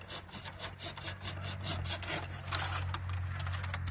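A hand saw cutting through a branch of an old apple tree during pruning, with a steady back-and-forth rasp of strokes, close and fairly quiet, a low hum underneath.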